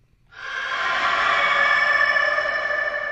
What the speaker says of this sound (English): I just recorded just the reverb of it, and then I flipped the reverbs.